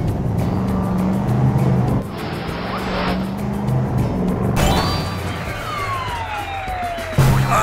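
Animated monster trucks race about with loud revving engine effects, siren-like wails and sweeping whooshes that shift abruptly several times.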